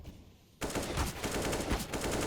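An AK rifle fires in Counter-Strike, a sudden rapid burst of close, loud automatic shots after a moment of quiet, holding a steady rhythm to the end.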